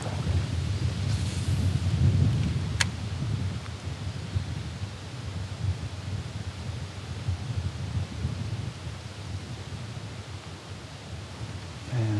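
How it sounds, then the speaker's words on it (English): Wind gusting outdoors on a fishing outing for bass, a loud, steady low roar with buffeting on the microphone that runs through the whole stretch, swelling slightly near the start, with no talk. "this wind is kind of whipping around now"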